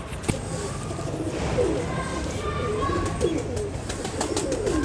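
Pigeons cooing in repeated soft, rolling calls close by, with other bird chirps and faint background noise throughout.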